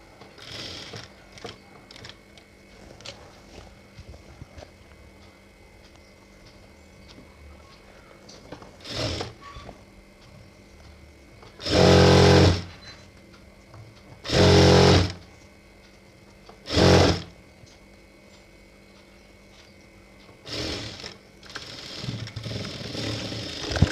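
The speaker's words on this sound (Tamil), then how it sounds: "இப்போ நம்ம தையல் ஓட்டணும் இல்லையா" A sewing machine stitches the neck of a plain blouse in three loud, close bursts of fast whirring, with quiet handling noises between them.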